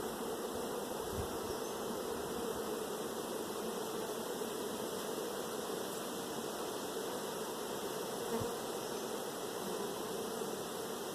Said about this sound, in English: Man, this bee really wants to sting me.